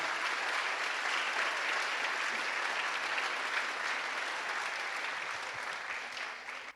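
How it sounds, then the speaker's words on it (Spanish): A church congregation gives steady, dense applause during an evening service, fairly distant and even, tapering slightly at the end with no voices over it. "vamos a darle un fuerte aplauso al Señor"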